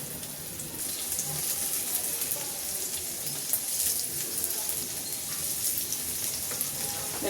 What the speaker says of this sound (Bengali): আস্তে আস্তে আমি এটাকে ভাজতে থাকবো।